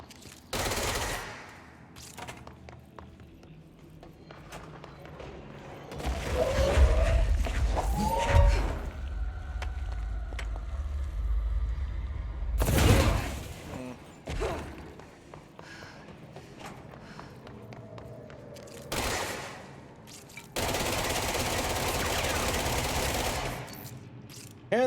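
Gunfire from a weapon in the Control video game, bursts of rapid shots in short volleys between quieter stretches, loud and close.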